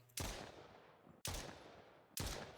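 Three loud, close gunshots fired at a barrel in an Unreal-engine orc-killer shooter, each a sharp crack followed by a long decaying blast tail, spaced about a second apart.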